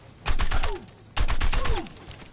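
Bastion from the Overwatch video game fires in turret form, two sustained bursts of rapid gunfire separated by a short pause, loud and close with mechanical whirring.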